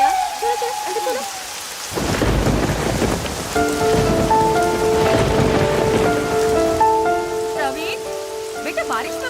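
Heavy rain pours down steadily, with rolls of thunder mixed in, while voices and a tonal sound rise over the downpour partway through.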